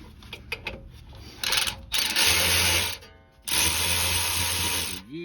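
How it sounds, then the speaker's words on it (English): A power tool fitted with a 12 millimeter socket loosens a rear caliper mount bolt on a 2019 Ram 1500 during a brake pad job, sounding as short ratcheting taps and then two loud, close whirring bursts. "to pop this one, we're going to use a 12 millimeter"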